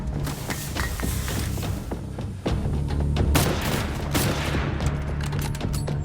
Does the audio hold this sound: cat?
no